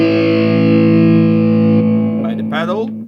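Heavily distorted electric guitar run through a reverb patch on a Zoom G3Xn multi-effects pedal in a metal tone, a loud sustained chord ringing steadily before a burst of new notes near the end.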